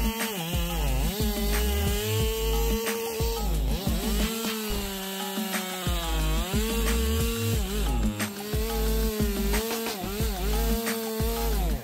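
A Stihl chainsaw engine drones and revs, its pitch rising and dipping repeatedly as it bites into a huge tree during felling, loud and continuous.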